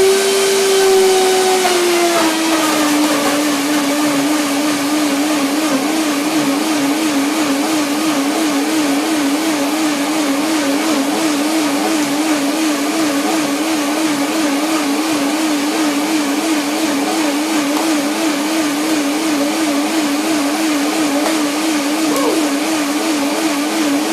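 Blender running steadily at high speed as it purées raw vegan blueberry pudding with oil and lemon, a loud continuous motor whine with a wobbling pitch that dips and settles early on, then holds alone for the whole stretch.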